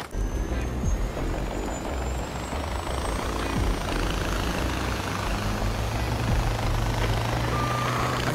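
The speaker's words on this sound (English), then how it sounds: "The chopper, Hurk. I'm coming to get you." Helicopter from the Far Cry 4 video game, a loud continuous rotor and engine rumble with a low droning tone and a rising whine, steady and close for the whole stretch, mixed with other vehicle noise.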